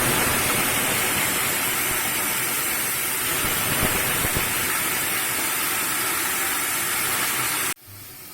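Chopped banana stem sizzles loudly and steadily in a hot pan for stir-fried poriyal, a dense continuous crackle that cuts off abruptly near the end.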